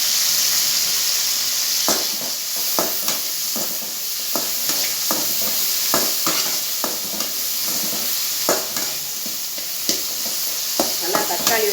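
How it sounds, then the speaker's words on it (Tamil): Mutton curry ingredients with tomato being sautéed and stirred in a pan: a steady sizzle carries throughout, broken by repeated scraping and clinking strokes of a spoon, close and fairly loud, with no talking. "எல்லாத்தையும் நல்லா வதக்கிடுவோம்"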